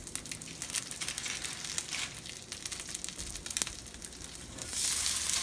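Chickpea burgers fry on a cooktop, giving a soft, steady sizzle with crackles and occasional sharper pops, rising a little louder at the end.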